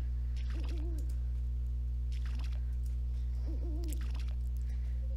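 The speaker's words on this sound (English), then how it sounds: "There sure are a lot of owls in this town." Owls hoot twice in the Harvest Moon: A New Beginning farming game, each a wavering multi-note call a few seconds apart, fairly clear over a constant low hum with faint clicks.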